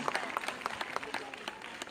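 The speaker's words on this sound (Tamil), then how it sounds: "கைதட்டுற அனைத்து நல்லவங்களுக்கும் நன்றி" Audience at a speaking event applauds in a short burst of scattered, fairly faint hand claps, with a few sharper individual claps standing out from the crowd.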